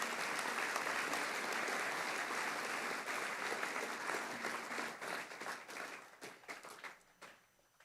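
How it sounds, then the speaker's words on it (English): A senior school assembly audience claps in warm, sustained applause that is steady at first, then thins into scattered claps and fades out. It sounds like a large room heard from some distance. "Can we please give them a round of applause?"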